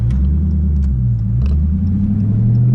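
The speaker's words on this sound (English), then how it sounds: "Ripping gears in the freaking Challenger" A Dodge Challenger accelerates hard, its engine a loud, close rumbling roar whose pitch climbs and drops briefly as gears change, with no voices over it.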